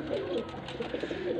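A breeder pair of pigeons in Faisalabad coo softly and repeatedly, close by, with a low throaty rolling sound over faint background noise.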